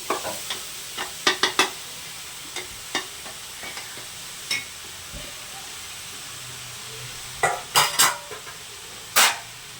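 Legumes being stir-fried in a pan, a quiet continuous sizzle under frequent sharp clicks and scrapes of a spoon against the pan, clustered in bursts near and loud, with no speech.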